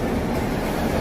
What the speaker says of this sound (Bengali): আমাদের ট্রেন শিয়ালদা অমৃতসর জালিয়ানওয়ালাবাগ এক্সপ্রেস ঢুকছে স্টেশনে